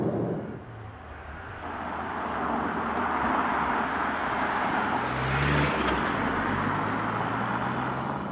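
Steady, loud road noise inside an all-wheel-drive Audi Q3 TDI diesel compact SUV with adaptive suspension and 19-inch rims, a continuous engine drone and tyre rumble with a slight rise and swell in the middle.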